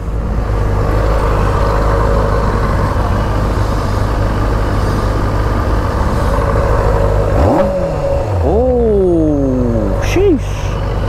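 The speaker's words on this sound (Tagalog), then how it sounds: "Oh, hear that engine." A QJ SRK 600 four-cylinder motorcycle idles with a steady loud drone, then revs up sharply several times with rising and falling sweeps near the end.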